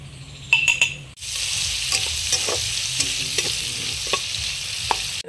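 Onion and green chili paste frying in a pan, with a few stirring clacks up front and then a loud, steady sizzle broken by repeated scraping strokes of a spoon.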